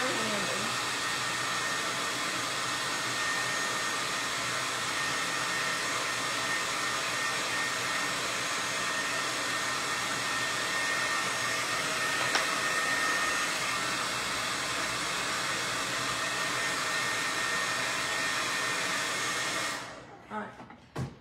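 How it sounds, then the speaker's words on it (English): A handheld blow dryer runs continuously at a crafting station, drying fresh acrylic paint on small heart crafts; a loud, steady whooshing roar that cuts off abruptly at the end. "I'm gonna hit this one just for a second with the blow dry."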